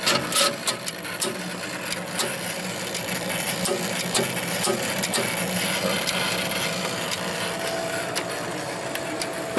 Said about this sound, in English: when it's engaged, you hear that little relay there